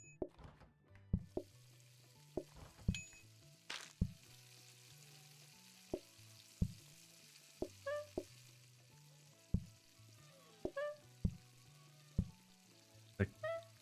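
Steaks sizzle in a pan in the cooking video game PlateUp, a soft frying hiss punctuated by repeated sharp clicks and game blips in an uneven rhythm, fairly quiet with no talking.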